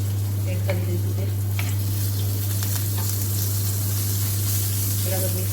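Ginger, garlic, green and red chili chutney being stirred into a sizzling eggplant mixture in hot oil for homemade ringan bharthu, a steady close frying hiss with soft scraping stirs throughout under a constant low hum.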